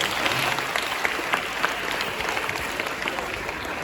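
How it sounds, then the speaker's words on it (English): A school audience applauds a 10th-grade student during a campus discussion, steady dense clapping that carries evenly through the whole stretch, crowd-wide and fairly loud with no talk over it. "Give me a round of applause"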